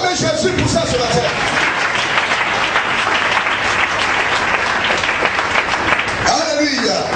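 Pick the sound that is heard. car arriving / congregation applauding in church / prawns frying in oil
congregation applauding in church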